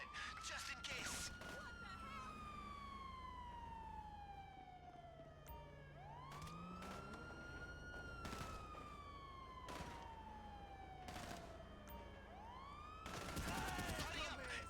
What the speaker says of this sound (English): Yo, those sirens are everywhere.